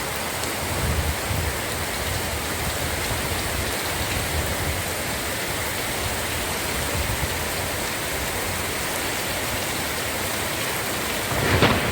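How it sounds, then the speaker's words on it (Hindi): Heavy unseasonal rainstorm with thunder and wind in Gujarat villages, India, a steady loud hiss of downpour throughout with low rumbling beneath and a sharper crack near the end, no voices. "बिजली के कड़ाकों भड़ाकों के साथ बारिश टूट पड़ी"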